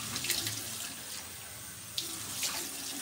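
Hot water runs steadily from a bathroom tap into a sink as a face is washed, a continuous close hiss with small splashes and shifts in the flow.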